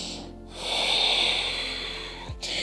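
A slow, close breath is drawn during a yoga pose, a soft airy rush that swells and fades over about two seconds, followed by a brief catch of air, with no talking.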